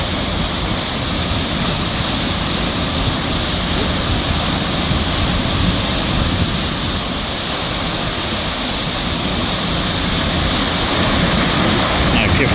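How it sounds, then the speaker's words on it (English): Water rushes steadily into a canal lock chamber, a loud, continuous broadband roar like a small waterfall that holds constant throughout. "So this is the water as it starts to flow into this section."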